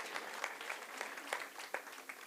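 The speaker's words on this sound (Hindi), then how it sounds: "बहुत खूबसूरत प्रस्तुति, एक बार पुनः जोरदार तालियां आप सभी की।" An audience at a nautanki folk theatre festival gives a faint, distant round of applause, scattered claps over a couple of seconds.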